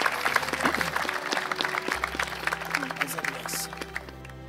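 Wedding guests break into applause during the ceremony, a burst of many hands clapping that starts strong and gradually thins, with a low hum and some voices underneath.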